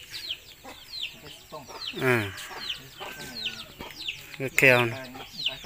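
Farmyard chickens cluck in repeated short bursts, some nearby and some farther off, across the whole stretch. Someone speaks at intervals in between.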